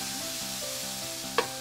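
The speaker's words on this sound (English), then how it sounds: "Dump your meat in. Let it sizzle, let it sear." Meat sears in a hot pan for burrito grain bowls, giving a brief, steady, fairly quiet sizzling hiss with one small clink near the end.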